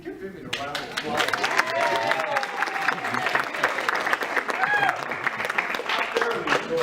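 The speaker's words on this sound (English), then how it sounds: "give Vivian a round of applause." A crowd at a retirement reception gives a round of applause, dense clapping sustained throughout, with voices and cheers mixed into it.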